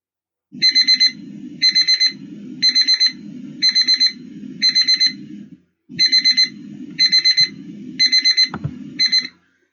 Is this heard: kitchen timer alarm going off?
yes